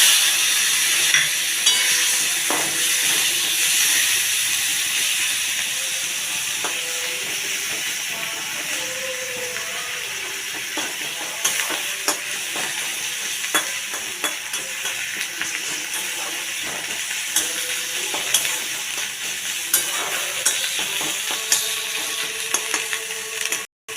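Chopped onions fry in a pan for a light Bengali fish curry with cauliflower and potato, a loud, continuous hiss and sizzle with occasional stirring scrapes and clinks throughout.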